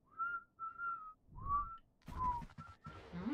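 A person makes several short, wavering whistles with gaps between them while struggling to get a clean tone, and a few soft breathy noises fall between the attempts.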